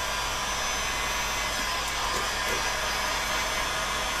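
A heat gun melts a bead of hot glue on a Viking bow with a dragon's head. It makes a steady, close, even rushing blow that holds unchanged throughout, with no talking.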